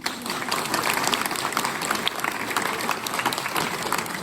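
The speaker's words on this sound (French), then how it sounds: "je pense que vous pouvez les applaudir" Sustained, dense applause from an audience at an association's general meeting in Les Sables d'Olonne, steady and fairly loud throughout.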